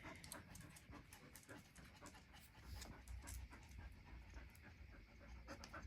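A dog pants rapidly and steadily at close range during play, with rhythmic breathy bursts over a busy outdoor background and faint voices.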